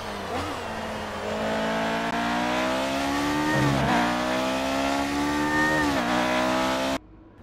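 A 1972 Lotus Formula 1 racing car's engine roars in the F1 2018 video game. It screams continuously at high revs, rising through gears with brief dips at the shifts, then cuts off abruptly near the end.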